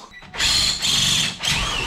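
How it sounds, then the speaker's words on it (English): A hammer drill running in bursts while mounting a transmission cooler, loud whining revs in three close pulses with a brief pause between each. "Now I'm on hammer drill."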